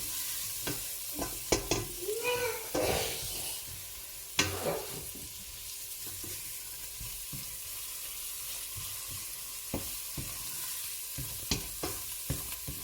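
Onions fry in a pan for a samosa filling, a soft, steady sizzle broken by occasional sharp clinks and scrapes of stirring, close but fairly quiet, with no voices.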